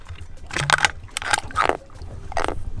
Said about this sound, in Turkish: Isırıyor. Teneke kutuya delikler açtı.